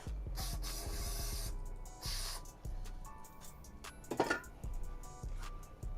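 Several hissing bursts of aerosol spray close by while working on a 1975 Chevrolet C10 truck, each a second or so long, separated by brief pauses and light handling noises.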